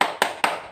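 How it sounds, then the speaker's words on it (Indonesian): A primary school class performs a rhythmic spirit clap, with three sharp, close claps spaced about a fifth of a second apart. "mari kita juga melaksanakan atau bersama-sama tepuk semangat"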